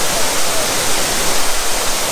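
Constant roaring rush of the Salto El Limón waterfall in Las Terrenas, Samaná, Dominican Republic, heard close and loud as a broad, unbroken wash of falling water.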